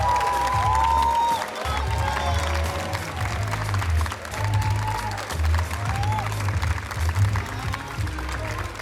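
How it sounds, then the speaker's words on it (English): Loud, sustained applause from a large audience at a Filipino student culture night, steady clapping with some cheering mixed in, filling the whole stretch without a break. "Let's give a big round of applause for Nicole Allen and Tammy Lawrence."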